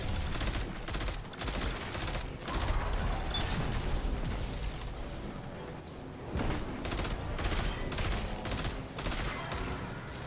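Rapid bursts of gunfire from an exotic weapon in Destiny 2 repeat steadily for about ten seconds, loud and dense, with short pauses between volleys and no talking over them.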